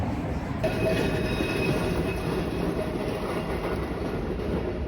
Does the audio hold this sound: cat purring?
no